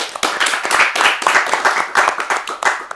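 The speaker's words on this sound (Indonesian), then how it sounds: "Tepuk tangan dulu." A small audience at an Islamic talk session gives a burst of hand clapping, a dense patter of claps close by that pulses unevenly for a few seconds with a faint voice mixed in.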